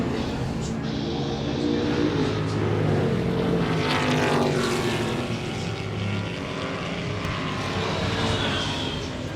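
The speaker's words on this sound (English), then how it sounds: "88 Jason Minshaw heading up Bill Shepherd there as they come down to Woodcote" Vintage racing cars at the Goodwood Revival, including a Ford Mustang, roar loudly and continuously past Woodcote corner, engine drone rising and sweeping as the cars go by, with no talk over it.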